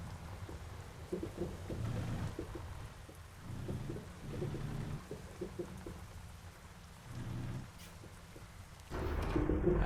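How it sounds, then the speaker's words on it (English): Rain and thunder in the Outback Australia Truck Simulator video game, a steady wash of rainfall with low rolling rumbles swelling and fading in waves, moderately loud, growing stronger at the end. "And it's starting to rain."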